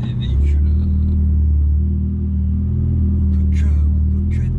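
Ferrari 488 Pista supercar engine rumbling steadily while driving, a deep, loud, continuous low drone that holds even throughout, with brief voices talking over it at the start and end.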